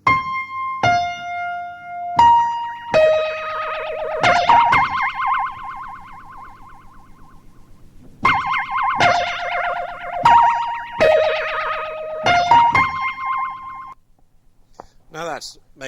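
A piano line played through a 1975 Eventide flanger, a bright repeating synthetic melody whose sweeping, phasey effect grows stronger across the phrases, loud and close with no talking.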